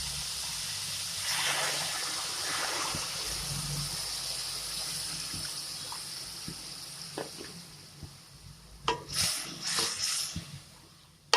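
Pot of water with carrots and other vegetables boiling for saamai (little millet) upma, a bubbling gurgle and soft sizzle that grows busier and louder toward the end, heard close without speech.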